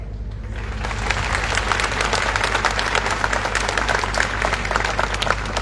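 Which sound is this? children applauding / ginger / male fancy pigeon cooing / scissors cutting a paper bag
children applauding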